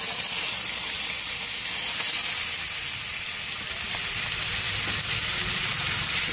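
Two medium grated onions fry in hot oil with cumin seeds and whole garam masala, making a loud, dense, continuous sizzle that stays level throughout.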